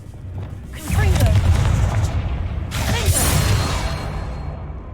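A Confringo fire spell in Hogwarts Legacy bursts out as a loud booming whoosh, then a second fiery blast follows about two seconds later, both fading into a rumbling tail.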